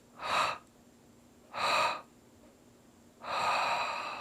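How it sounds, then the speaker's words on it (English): Three slow, deep breaths sound close and clear, each a broad airy rush about half a second long with quiet gaps between, and the last runs longer. "Big inhale through the nose. 3 exhales."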